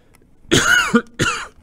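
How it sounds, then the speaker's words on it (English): A cough right into a microphone during a live game stream, two sharp close bursts, loud and dry, with nothing else around them. "I know that cough is right in that microphone."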